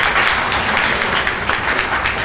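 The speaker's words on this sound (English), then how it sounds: "please give him a round of applause" An audience at a brokers meeting breaks into loud, close applause, a dense and even wash of clapping that holds for a couple of seconds.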